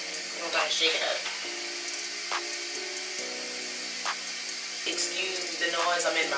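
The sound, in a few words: toilet constantly running water in a bathroom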